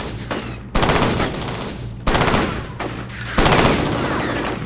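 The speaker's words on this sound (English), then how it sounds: "You're shooting at me now too, I think." Automatic rifle fire from the first-person shooter F.E.A.R., loud close bursts of rapid shots in three repeated surges with sustained rattling between them, no talk over it.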